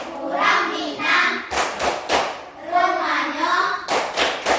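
A Minangkabau rhythmic hand-clapping chant game, 'Tepuk urang awak', led for a class: a voice chants while bursts of claps and thumps land in patterned clusters between phrases.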